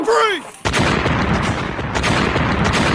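Cartoon gunfire erupts in a battle against dinosaurs and Siren Head: after a brief vocal cry, loud, dense bursts of rapid shots and booms fill the rest of the moment.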